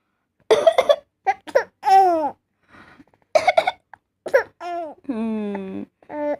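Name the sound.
coughing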